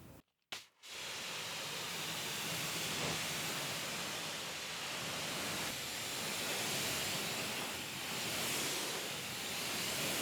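Citrus pre-cleaner diluted 1:20 sprayed onto gloss black alloy wheels of a Volkswagen T-Roc, a continuous close, loud hissing spray after a brief stuttering start.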